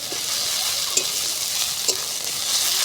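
Spice paste for a spicy Bata fish curry fries in a pan with a steady, dense sizzle, and a couple of soft stirring scrapes surface near the one- and two-second marks.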